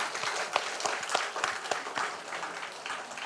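A church congregation applauds to glorify God after a hymn. Dense, continuous clapping fills the room at moderate loudness, with no clear voices over it.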